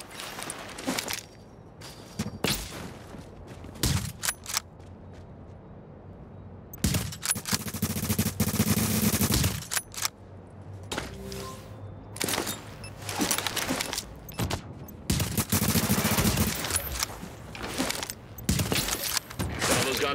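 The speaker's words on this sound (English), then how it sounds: "Hostiles are firing on a fortification" Video game gunfire directed at a fortification, with rapid automatic bursts and scattered single shots coming in clusters over about twenty seconds, loud and close, with quieter mechanical clicks and footsteps in the pauses.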